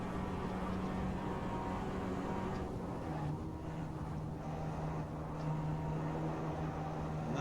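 Ford Ka car on track at Silverstone, engine droning steadily from inside the cabin in fifth gear, a constant low hum with broad road and wind noise, no talking.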